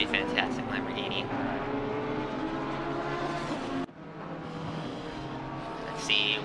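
A Lamborghini race car roars past in Gran Turismo at the Belgian circuit, its engine note loud and sustained with a brief cut midway, under ongoing commentary voices.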